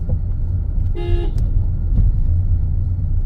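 A car horn gives one short, loud honk on a street during a driving lesson, standing out over the steady low engine rumble and road noise inside the car.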